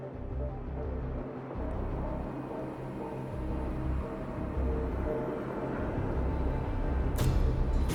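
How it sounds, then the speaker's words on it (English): A dense, steady wash of white noise from a Fragmentum monster in Honkai: Star Rail fills the whole clip, rough and rumbling, with no clear voice or rhythm standing out. "I just hear white noise."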